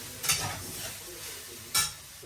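Spices and green chillies fry in a pan with a soft sizzle, punctuated by two sharp stirring scrapes close by, with no voices.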